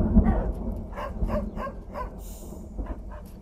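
Several dogs bark in a film trailer for 777 Charlie, a run of sharp, close barks and yips repeating every half second or so over a low rumbling background.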